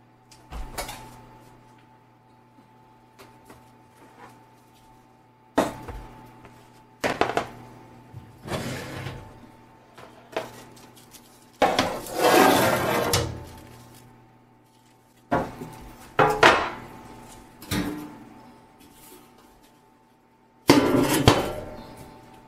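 Covered pans of hyper-hydration bread dough are set into an oven with a series of scattered metallic clanks, knocks and thuds, some sharp and some longer rattles, spaced irregularly over quiet room tone.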